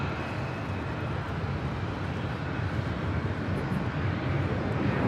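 A Delta Boeing 737-900ER takes off from LAX, its engines making a broad, steady roar that holds evenly loud for the whole stretch with no pause.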